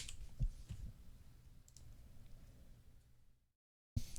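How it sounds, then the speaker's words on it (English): Quick light clicks from typing on a computer keyboard sit over a low hum, faint and close, before the sound drops to brief silence and resumes. "if I can type today"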